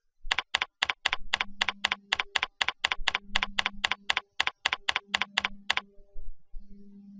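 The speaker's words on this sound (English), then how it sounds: "Type a detailed description of the discrepancy." Rapid, even typing on a computer keyboard, a close, crisp run of key clicks with short pauses and a heavier tap near the end, heard alone without any voices.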